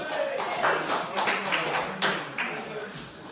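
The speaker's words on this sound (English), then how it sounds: "Give Sarah a round of applause!" Scattered applause from a small comedy-night crowd in a pub-style room honoring a woman named Sarah, patchy claps rising and falling with a murmur of voices underneath.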